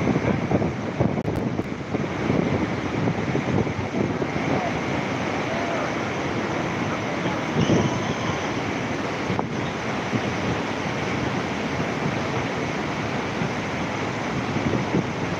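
River water rushes in a steady, dense wash of broadband noise, with wind buffeting the microphone throughout and no clear break in the flow.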